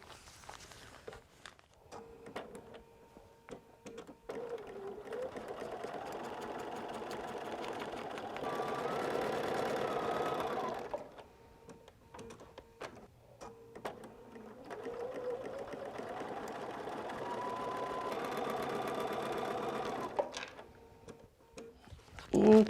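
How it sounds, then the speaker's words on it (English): A sewing machine stitches two quilt fabric pieces together in two long steady runs of rapid mechanical whirring, with short pauses and handling noises between them, close and clear with no talk. "we need to sew these 2 pieces on"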